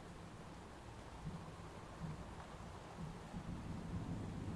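Video game rain falls as a faint, steady hiss with low rumbling swells, alone and continuous.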